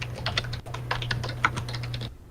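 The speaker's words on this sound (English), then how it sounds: "Who's typing?" Rapid, irregular keystrokes on a computer keyboard, close and fairly crisp, with a steady low electrical hum underneath and no talking.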